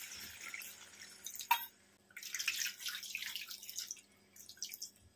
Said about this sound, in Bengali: এবার এর মধ্যে আমি জল দিয়ে দিচ্ছি।